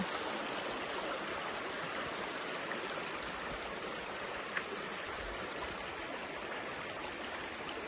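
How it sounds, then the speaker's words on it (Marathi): River water flows steadily near Soygaon in Chhatrapati Sambhajinagar, a broad, even rushing wash at moderate level with no talk. "आपण नदीजवळ पोहोचलेलो आहोत"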